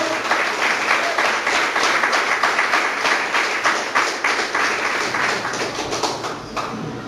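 Church congregation claps during a sermon, a dense, continuous round of many hands that holds steady for several seconds before tapering slightly near the end.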